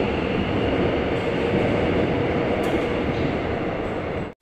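A Suin-Bundang Line metro train roars steadily nearby with a dense rumble of wheels on rails, arriving at Giheung Station and cutting off abruptly near the end; no voices.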